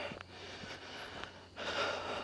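Close, heavy breathing and huffing during an uphill forest walk, a few short gasping breaths followed by a louder rushing exhale near the end.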